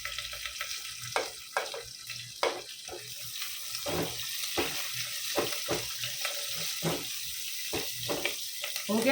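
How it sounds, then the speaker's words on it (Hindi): Mustard seeds, cumin and curry leaves spluttering in hot oil, a steady frying hiss broken by irregular sharp pops and crackles, close and moderately loud, with no talking. "इसको अच्छे से तड़कने देंगे।"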